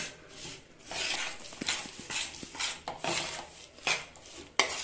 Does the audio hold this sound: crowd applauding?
no